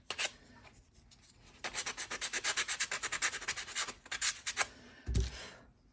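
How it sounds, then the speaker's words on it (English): Edges of a wooden shiplap board are sanded by hand in quick, rhythmic scraping strokes, loud and close, with a few pauses and a brief thump near the end. "I'm gonna just sand those edges a little bit."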